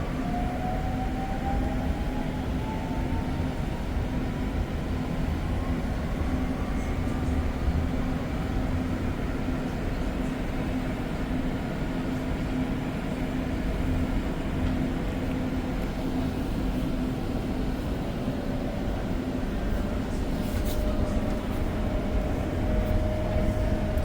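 Riding aboard a REM light rail train in Montreal between Central Station and Brossard: a steady low rumble of the moving car with a faint rising whine, continuous and even, no voices.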